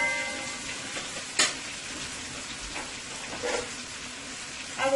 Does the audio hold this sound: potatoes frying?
yes